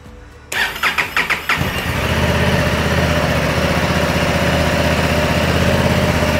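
A starter cranks in a few quick chugs, then the engine catches and settles into a loud, steady idle rumble.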